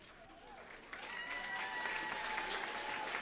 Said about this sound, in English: A nice round of applause for the Bale Elementary Teacher of the Year.